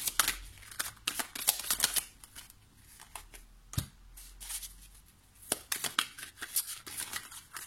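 A deck of slippery tarot cards being shuffled close up, with repeated crisp riffles and flicks in irregular bursts separated by short pauses.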